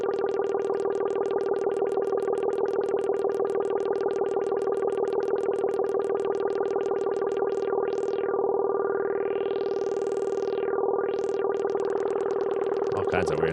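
A sampled synth tone in Ableton Simpler drones steadily on one pitch while an LFO sweeps the filter in a fast pulsing wobble, then slows into broad, swooping filter sweeps near the end, loud and alone with no talk.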